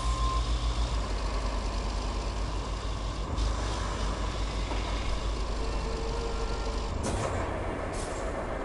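Heavy truck driving in the RoadCraft game on PS5, its engine a steady, loud low rumble throughout with a brief hissing release near the end, no talking.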